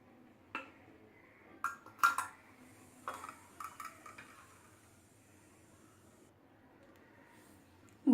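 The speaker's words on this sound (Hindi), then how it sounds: "अब हम इसे फिर से कढ़ाई में डाल देते हैं ताकि ये जल्दी से" Scattered metallic clinks and scrapes sound as cooked jaggery syrup is poured back into a kadhai. The sounds come in separate taps and clatters over a quiet background.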